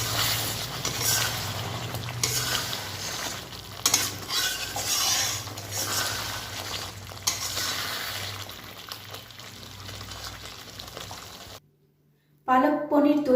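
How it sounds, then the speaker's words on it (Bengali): Palak paneer is stirred in a pan after a spoonful of garam masala is added, giving close scraping and soft sizzling under talk before a brief silence near the end. "এবার একটু ভালো করে নাড়িয়ে ছাড়িয়ে নামিয়ে নেব।"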